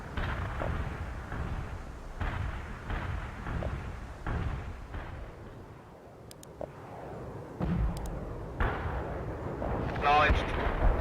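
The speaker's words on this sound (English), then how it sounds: "Bombard the target coordinates." In World in Conflict, artillery rounds hit a target area one after another, giving deep, heavy booms at a steady pace with rumbling between them. Radio chatter and short electronic beeps come through over the blasts.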